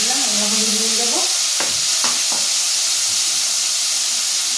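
Potatoes sizzling in hot oil in a pan, a loud steady frying hiss throughout, with a few short scraping stirs of a spoon partway through; a faint voice-like tone fades out near the start.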